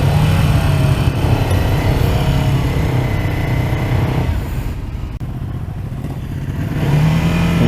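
A Ducati Scrambler motorcycle engine revs loudly and close by, a steady low throttle roar that dips briefly in the middle and then climbs again, with a jerky, uneven character and no talk over it.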